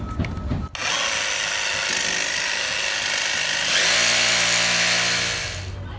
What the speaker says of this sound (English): you can get your jigsaw in between the gap there